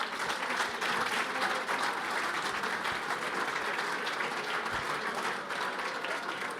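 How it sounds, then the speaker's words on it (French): An audience applauds at the close of a session, a dense, even patter of many hands clapping throughout, fairly quiet and distant. "on peut les applaudir bien fort"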